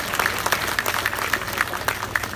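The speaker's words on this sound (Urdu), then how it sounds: "سب سے زیادہ تالیاں جو ہے اس بات پہ آ گئی" A crowd at a public political rally applauds steadily, dense clapping from many hands at moderate distance, continuous throughout with no clear pause.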